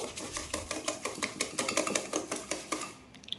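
Eggs being beaten with sugar and a pinch of salt in a bowl, a quick steady run of whisk or spoon strokes clattering against the bowl at close range, alone without talk, fading out near the end.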